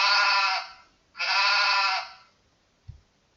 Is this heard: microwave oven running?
no